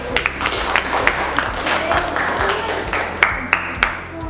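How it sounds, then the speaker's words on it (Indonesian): Scattered claps from a classroom audience applaud the first group during a teaching-practice session at a university in Yogyakarta, uneven and moderately close, mixed with low background hum and brief voices. "Beri tepuk tangannya untuk kelompok 1."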